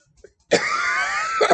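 A tiny tap, then one harsh, raspy cough held for about a second, ending with a couple of short throaty bursts, close and loud.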